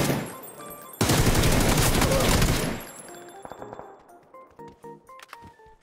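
Automatic gunfire in PUBG rattles out in a loud, dense burst lasting almost two seconds, then gives way to scattered metallic clinks and softer pings.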